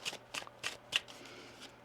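Tarot cards shuffled in four quick riffling bursts, close and crisp, followed by a softer rustle as the deck settles.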